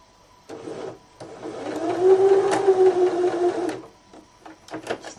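A sewing machine stitches fabric for a chicken coop project, its motor whirring steadily for about three seconds before stopping, with brief clicks and fabric handling before and after.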